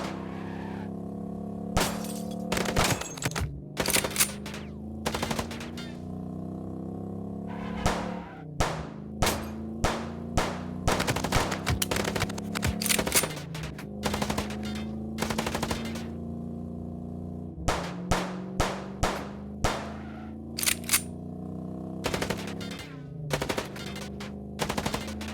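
Repeated machine-gun bursts and single gunshots fired during a car chase in the noir detective game Chicken Police, sharp volleys recurring throughout over a droning engine and tire noise.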